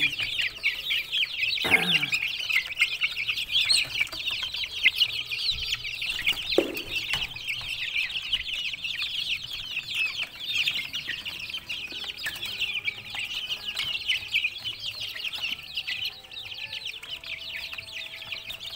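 Chickens clucking and chattering continuously close by, with a couple of louder squawks near the start.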